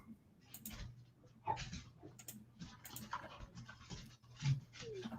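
Quick panting and light scrabbling of dogs play-fighting and circling nearby, with soft irregular clicks and scuffs in uneven bursts.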